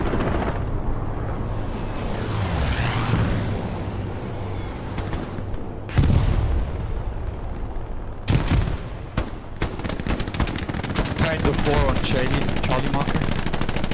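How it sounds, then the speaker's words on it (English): Aircraft strafing run in the Hell Let Loose video game, with heavy machine-gun fire and sharp gunshot bursts loud and close, continuous rattling gunfire dense throughout and several louder impacts near the middle and end. "this strafe run is going very close to the friendlies"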